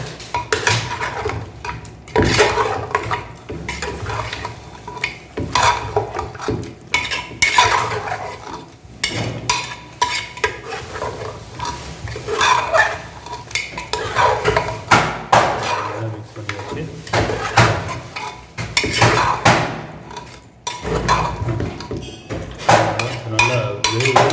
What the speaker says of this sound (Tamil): நல்லா மிக்ஸ் பண்ணியாச்சு, நல்லா கலக்கியாச்சு